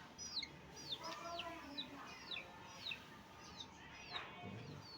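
Young chickens kept alongside quail call with a run of thin, high descending peeps, repeated every half second or so at moderate distance over a quiet background, with no talking.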